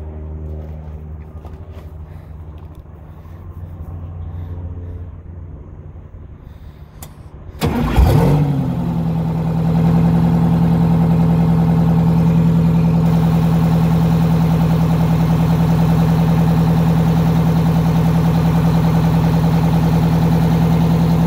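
A large MC8 coach bus diesel engine cranks with a rising rush of noise, catches, and settles into a loud, steady, close idle that drones on without pause.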